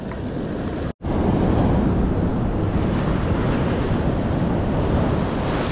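Heavy surf pounds a beach in a continuous roar, broken by a brief dropout near the start, with strong wind buffeting the microphone throughout and no voices.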